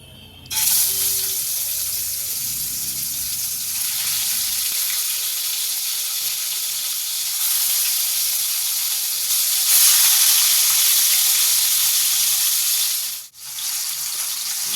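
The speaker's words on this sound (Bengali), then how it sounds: "তেল গরম হলে ওর মধ্যে মাছগুলো দিয়ে দিলাম।" Loud, steady sizzling of catla fish frying in hot oil, a continuous bright hiss that swells slightly and dips briefly near the end.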